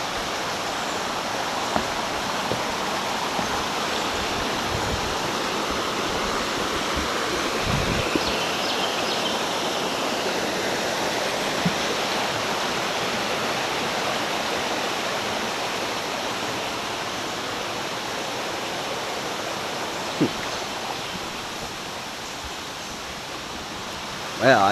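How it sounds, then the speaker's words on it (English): Hickory Nut Creek rushes over rocks in a mountain gorge, a steady broadband wash of flowing water heard nearby, with a few faint thumps and rustles over it. "That might be why it sounds like there's really rushing waters."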